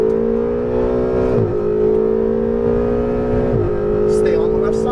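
A Ferrari 488 GTB on a Las Vegas track accelerating at full power, its engine note a loud sustained drone that rises in pitch, dips briefly at gear changes, then climbs again, close and continuous.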